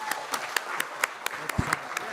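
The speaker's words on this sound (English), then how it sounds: "Can we get one actual applause where everybody's actually applauding?" Audience clapping at a talk by rapper Lupe Fiasco, heard as a handful of sharp, separated claps spaced roughly evenly apart rather than a full ovation, with a low voice-like thump partway through.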